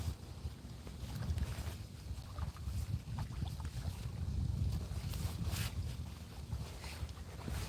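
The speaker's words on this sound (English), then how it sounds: "It's been windy for like a month here," Steady wind gusting over a lake during a fishing trip, a continuous rough rushing and buffeting that fills the scene at moderate level with no voices.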